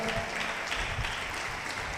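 A church congregation claps together during worship, a steady, continuous wash of many hands at a moderate distance, even and unbroken for two seconds.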